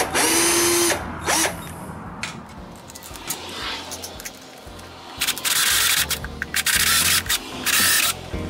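A power drill backing a screw out of a wooden bird feeder under repair, in several loud whirring bursts separated by short pauses and quieter handling sounds.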